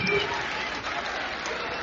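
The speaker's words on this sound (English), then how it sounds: "Crowd is electric." A crowd at a girls' high school basketball sectional championship between Vincennes Lincoln and Washington cheers and applauds in a dense, sustained roar, with a voice talking faintly underneath.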